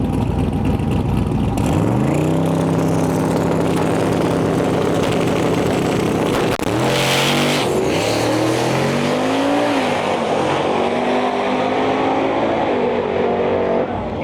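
Camaro and Mustang drag racing at a no prep shootout, loud engines roaring continuously, revving and pitching upward through gear changes as the cars launch and accelerate away.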